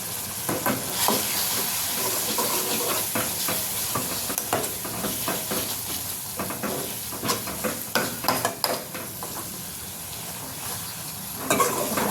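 Garam masala and spices are stirred in a hot pan for Kathiyawadi brinjal oro, with a continuous sizzle broken by frequent scraping spatula strokes, close and fairly loud.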